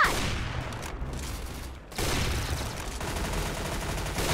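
Gunfire from the Roblox game Arsenal comes as a dense, continuous rattle of rapid shots, loud and close, with a short dip before the firing resumes.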